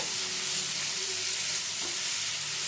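Potatoes frying with turmeric powder in a pan, stirred steadily, give a constant, close, bright sizzle with faint scraping, and no one speaks.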